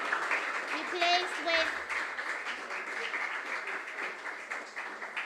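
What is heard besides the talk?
audience applause at a quiz competition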